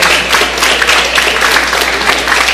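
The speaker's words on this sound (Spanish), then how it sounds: "Fuerte los aplausos otra vez." Loud, dense applause from the audience at a national labour procedure law congress, a continuous roar of many clapping hands with no speech over it.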